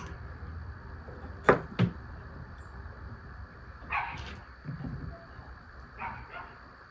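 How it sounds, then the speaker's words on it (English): A few sharp dog barks ring out at a distance, scattered in short bursts over a steady background hum near a running 1979 Ford F-150 SuperCab. "I'll have to ignore the dogs barking in the background."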